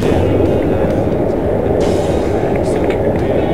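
Steady low rumble of a train in motion, heard from inside a carriage on an overnight ride, with dense, even noise throughout and faint higher scrapes and clicks above it.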